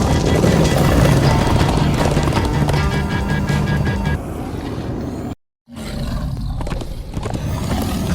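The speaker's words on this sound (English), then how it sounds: "Come on, horses!" In Minecraft: Story Mode, loud, continuous galloping horse hoofbeats with rumbling and roaring noise, dropping out abruptly for a split second before resuming.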